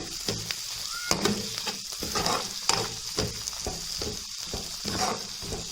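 Turmeric stirred into a frying mixture with chopped ginger for jhunka, a steady close sizzle broken by spoon scrapes and clacks in an irregular rhythm.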